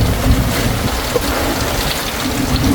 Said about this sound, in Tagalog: Yan ang bagyo.